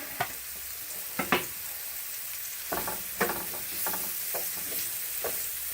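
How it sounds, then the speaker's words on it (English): Mushrooms fry in a pan for a Marsala sauce, with a continuous sizzle broken by scattered spatula scrapes and knocks at close range. "All right, so now to cook mushrooms."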